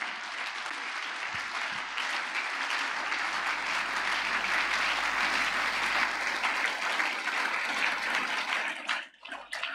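A church congregation applauds loudly in a dense, sustained wave of clapping and cheering that fills nearly ten seconds, then drops away abruptly at the very end.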